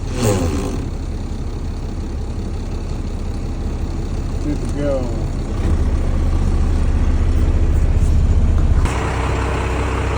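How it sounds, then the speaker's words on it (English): A truck engine idles loudly with its power take-off engaged to drive hydraulics, a steady low diesel rumble that deepens and grows louder partway through, with a hiss of air and someone briefly speaking over it. "So now I got to engage the PTO. It's going to do the hydraulics on this thing."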